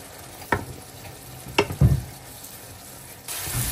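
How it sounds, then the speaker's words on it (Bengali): Spiced meat masala paste with curry powder, coriander, garam masala and chili powder being stirred and fried in a pan, giving a few scraping spoon strokes over a low sizzle, with a louder burst of frying near the end. "মাংসের মশলাটা কষানো হয়ে গেছে।"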